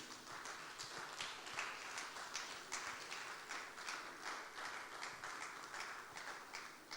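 Audience applause filling a hall at a climate change summit in Lagos, a dense steady patter of many hands clapping at even loudness throughout, heard from a distance with no voices over it.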